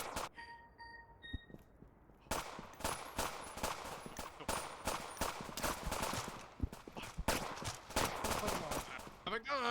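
Rapid bursts of gunfire in the video game STRAFTAT, loud and dense repeated shots after a quieter opening with electronic tones and faint talk.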